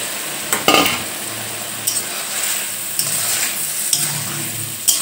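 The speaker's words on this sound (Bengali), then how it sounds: "ভালো করে মিশিয়ে" Lata (taro stolon) and Bhola fish curry being stirred in a pan, a spoon scraping in repeated strokes over a steady sizzle, with a few sharper clinks spaced about a second apart, close by and with no talk.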